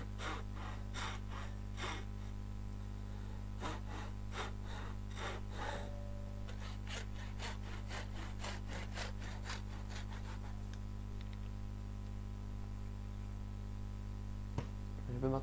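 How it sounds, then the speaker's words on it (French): A disc sander works over a Les Paul electric guitar body, with rhythmic rasping passes of abrasive on wood over a steady motor hum, the strokes busy early on and then thinning to a continuous drone. "une ponceuse à disque."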